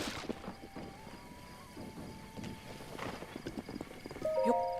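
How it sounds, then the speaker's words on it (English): A horse in the video game Zelda: Breath of the Wild runs off with steady clip-clop hoofbeats, followed by a short whinny at the end over soft game ambience. "Yep, that scared my horse away."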